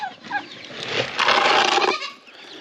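Goats bleat in a few wavering calls, one long loud cry in the middle, close by.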